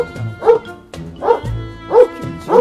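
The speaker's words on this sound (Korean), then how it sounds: "뭐야 강아지가 왜 있지? 여기 강아지가 있을 이유가 없잖아." A dog barks and yips repeatedly in bursts at close range, four or so loud barks spaced through the moment, with no talk over them.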